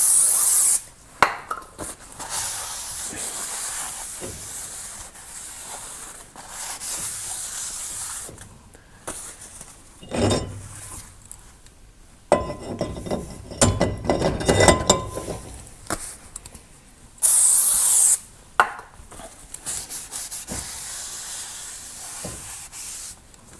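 A rag rubs over a brake hub during a complete brake job, giving intermittent close scraping and rasping strokes in bursts with short pauses, alone without talk.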